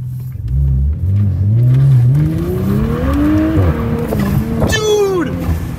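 Audi S5 B9 with an 034 Motorsport stage 2 ECU and TCU tune launching hard, engine note climbing through rapid upshifts with a brief tire chirp near the end, loud inside the cabin.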